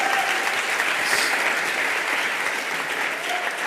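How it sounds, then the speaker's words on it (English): Audience applause at a DNX conference talk, a full, continuous roar of clapping from a large crowd, loud and sustained with faint voices mixed underneath. "Just give them a round of applause."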